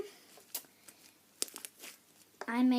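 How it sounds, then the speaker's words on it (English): Crunchy aqua slime mixed with foam beads is squeezed by hand, giving a string of crackly clicks and crinkles close up, with a voice briefly heard at the end. "I made it crunchy with foam beads"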